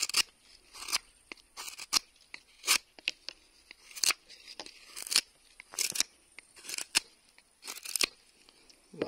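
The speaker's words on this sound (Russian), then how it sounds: "Нож не уводит, не выгибает, по продуктам нормально режет." A Yakut or Evenki knife slices through food such as a soft cucumber, giving a series of sharp crisp cuts and crunches in an irregular rhythm against a quiet background.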